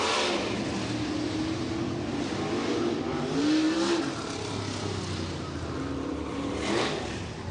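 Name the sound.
sprint cars on dirt track doing slow wheel packing laps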